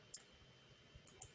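Computer mouse clicks while working in Algodoo simulation software: one crisp click early, then a quick pair of clicks near the end, close and faint against quiet room tone.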